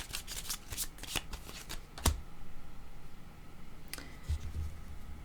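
Tarot cards are shuffled and drawn close by in quick riffling bursts and soft flicks, with a short pause before a final round of card handling.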